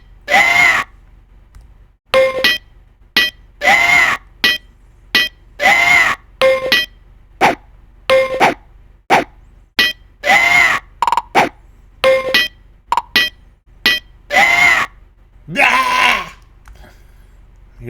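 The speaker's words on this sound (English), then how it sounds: "I hear that scream in my nightmares every night now." A scream from the video game Gateway to the Savage Frontier repeats many times as short, bleating, wailing bursts in a rapid, choppy sequence, ending in one longer drawn-out cry.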